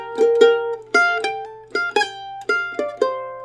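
A mandolin picks a two-measure phrase of the fiddle tune Last Chance, with bright plucked notes and double stops in an uneven rhythm, played alone and close.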